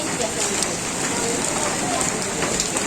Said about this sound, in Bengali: আজ পূজাও বৃষ্টিতে ভিজলো, কথাও বৃষ্টিতে ভিজছে।